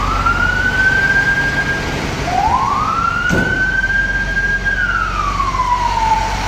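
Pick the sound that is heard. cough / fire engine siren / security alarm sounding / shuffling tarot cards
fire engine siren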